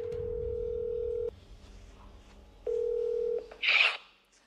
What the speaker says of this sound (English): we can go ahead and make the phone call